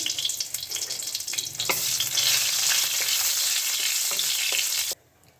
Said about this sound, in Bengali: এর মধ্যে আমি একটু রাঁধুনি আর শুকনো লঙ্কা ফোড়ন দিয়ে দেবো